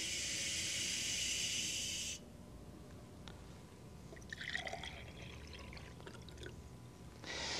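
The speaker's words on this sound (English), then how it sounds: "let's take and add a cup of water to our glass here." Cup of water poured into a drinking glass for a salt-and-density experiment; a steady broadband pouring rush for about two seconds, then quieter trickles and small splashes, with another brief pour at the end.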